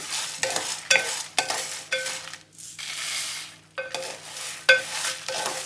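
Coriander seeds tossed with chana dal in a dry pan while making homemade curry leaf and moringa powder: repeated stirring scrapes and rattling seeds in bursts, with a soft steady sizzle-like hiss between strokes, close and moderately loud.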